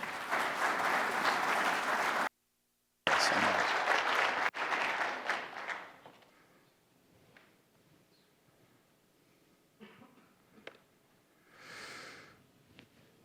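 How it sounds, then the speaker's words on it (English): An indoor audience at an environmental award presentation applauds loudly and steadily, with a short break, then the clapping fades into quiet room noise with scattered rustles and breaths. "let's give a big round of applause to Mr. Bobby Whitescarver."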